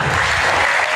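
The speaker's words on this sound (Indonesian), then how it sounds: "Oh, tepuk tangan." Dense, loud applause from an audience at a school gathering fills the whole short moment, steady and close, with no pause.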